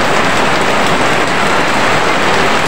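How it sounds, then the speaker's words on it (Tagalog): Heavy rain pours down steadily and loudly in a dense, unbroken hiss, close by, with no talking. "Sa ulan ngayon sa August 19 pala to"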